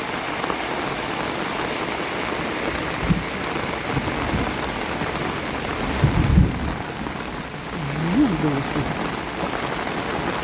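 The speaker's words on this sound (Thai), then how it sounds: "เยอะมากมากเลยฝน" Heavy rain pours steadily as a dense, broadband hiss, with water rushing and a few low thumps and brief murmurs of talk underneath.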